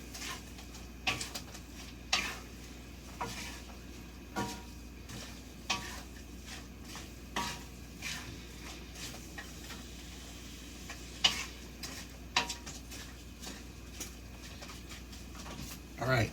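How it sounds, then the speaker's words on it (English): Onions and celery being stirred in melted butter in a pot for stuffing: soft, quiet cooking with occasional sharp spoon clinks and scrapes, a faint low simmer and some talking. "Stir it around to make sure it all gets coated up."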